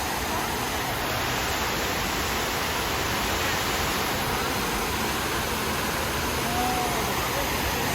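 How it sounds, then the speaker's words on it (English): Water pouring continuously into the 9/11 Memorial pools in New York City, a steady, dense rushing like a waterfall with no breaks, filling the whole clip. "Although water flows into the voids, they can never be filled"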